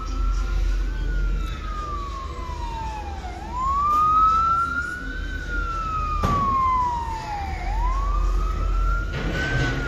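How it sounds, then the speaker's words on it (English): An ambulance siren wails past in a long rising and falling sweep, loud and close, with road traffic rumbling underneath and a couple of brief knocks. "And then comes the ambulance."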